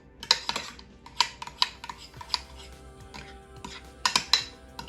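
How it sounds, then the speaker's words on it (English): Vegan cake batter sweetened with maple syrup is stirred in a bowl, the spoon knocking out a string of sharp, irregular clinks and taps close by, spaced unevenly over several seconds. "I'm going to go ahead and stir it well"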